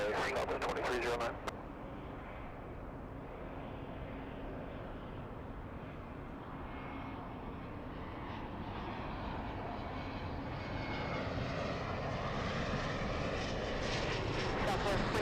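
A Southwest jet airliner takes off from runway 24 left at LAX, a steady, broad roar that holds through and swells slightly louder toward the end, after a brief crackle at the start.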